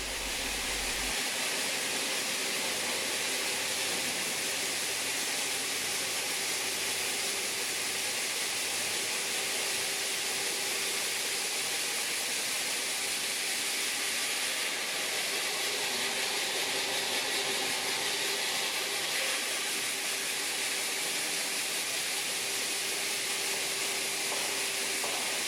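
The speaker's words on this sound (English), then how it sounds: "Here a single-bladed diamond saw slices slowly through the granite block." A single-bladed diamond saw slices slowly through a granite block. It makes a continuous loud hiss and grinding rush with a faint steady tone underneath. The sound stays even and unbroken throughout, with no voices.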